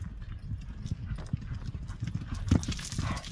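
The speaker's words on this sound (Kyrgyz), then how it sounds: "Мына атты көрүңүздөр. Узатып чабып кетти." A horse galloping at full stretch, a rapid close clatter of hoofbeats drumming continuously with a brief louder thump near the end.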